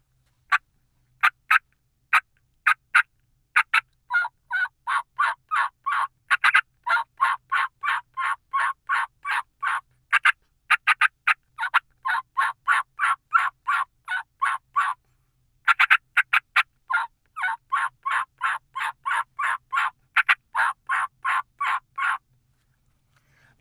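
A mouth call imitates an excited turkey hen, running fast, rhythmic strings of loud, close yelps broken by sharp cutting clucks, with no other sound around them.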